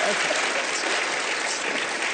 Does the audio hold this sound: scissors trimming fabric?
no